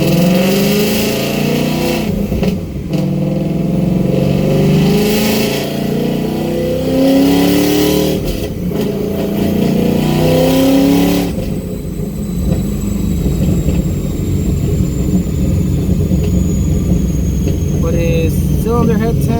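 A 2019 Ford Mustang GT with a G3x supercharger on a 120mm pulley, running on a dyno. The engine revs loudly in repeated surges, then holds a steady high drone with a rising whine.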